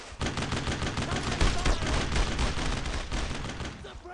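Sustained rapid gunfire laying down suppressive fire in the World War II shooter Brothers in Arms: Road to Hill 30, a dense continuous fusillade of overlapping shots and bursts, loud and close for about four seconds with no talk.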